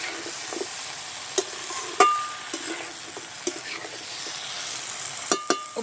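Potatoes and Malabar spinach being stirred in a frying pan, a faint sizzle under sparse scrapes and clinks of a spoon against the pan, nearby, no speech.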